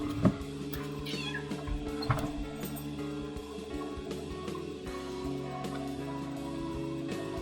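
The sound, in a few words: cat meowing in a video game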